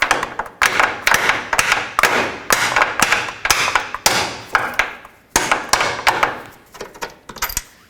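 Repeated sharp hammer blows drive a bolt out of a front lower forward control arm bushing on a 2004-2008 Acura TL, metallic strikes falling in a steady rhythm about every half second, loud and close.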